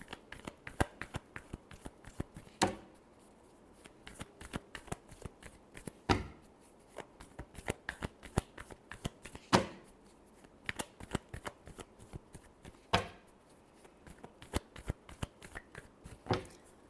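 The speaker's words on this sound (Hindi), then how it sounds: "last shuffle" Tarot cards are shuffled close by in a quiet room, a long run of soft riffling and tapping with sharper slaps every few seconds, with no talking.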